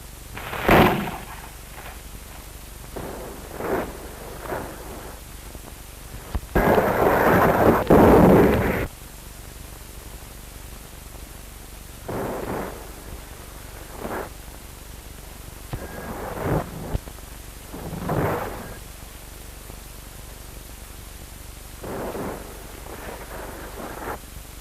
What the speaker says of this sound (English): as witness the fire pattern and accuracy of these shell bursts